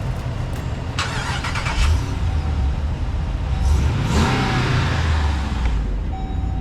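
Gas 6.4-litre V8 in a 2025 Ram Rebel 2500 pickup cranking and catching, then settling into a deep, steady idle with a brief swell of revs, heard close and outdoors with no talk.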